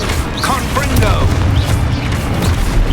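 A Confringo fire-blast spell from Hogwarts Legacy, a loud, dense burst of rumbling explosive noise filling the whole moment, heavy and close with crackling texture on top, under battle sound.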